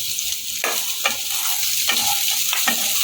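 Sliced onions and capsicum stir-fry in a hot pan for Kolkata street-style chicken chowmein, with a steady loud sizzle broken by a few scraping stirs, close and without talk.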